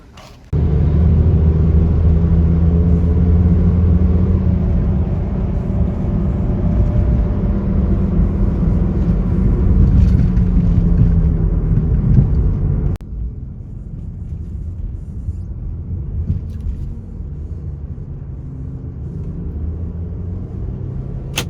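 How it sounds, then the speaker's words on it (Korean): A Renault Samsung SM5 with a suspected wheel bearing fault drones loudly while driving at about 90 km/h, a steady heavy roaring rumble like an aircraft taking off, easing to a quieter road hum partway through. "주행 중에 하부 쪽에서 베어링 소리 나신다고 하니까 시운전을 한번 해보겠습니다."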